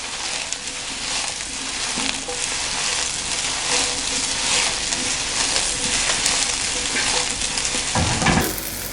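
Capsicum is stir-fried in a hot pan alongside other vegetables, giving a loud continuous sizzle with bursts of stirring and scraping. A sharp clatter comes near the end, with no talking.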